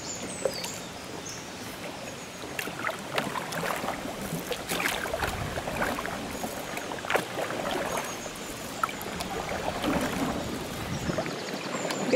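Water sloshing and splashing in a steady rhythm as a paddle dips alongside a canoe on the River Severn, with faint outdoor ambience and no talk.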